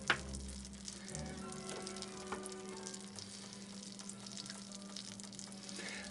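Butter sizzles quietly in a frying pan while making Viennese apple strudel, a faint steady hiss with a soft clunk at the start and low background hum.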